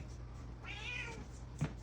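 A cat gives a single drawn-out meow, faint and close, over a low steady background hum in a laundry room being remodeled.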